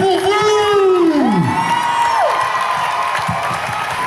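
A gala crowd cheers and shouts loudly, with whoops and high calls rising over a dense, continuous roar of voices that stays strong throughout.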